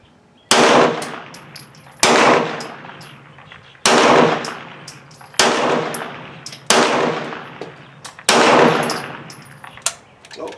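A Hi Point 995 carbine fires six loud, close shots at a shooting range, evenly spaced about a second and a half apart, each a sharp crack with a ringing metallic tail that fades before the next.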